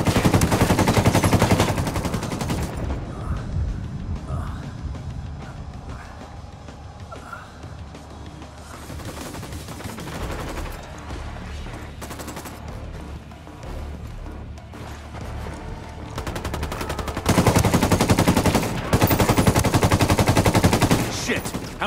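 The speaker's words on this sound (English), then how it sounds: "Open fire." Sustained automatic gunfire from a Ghost Recon Wildlands firefight, loud bursts at the start and again near the end with a steadier stretch of shooting and game effects between, no speech.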